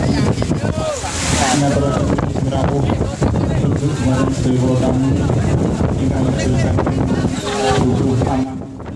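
Strong gusting wind batters a wedding tent in Sukorejo, Ponorogo, East Java, roaring loudly and continuously, with rustling and flapping and indistinct voices mixed in.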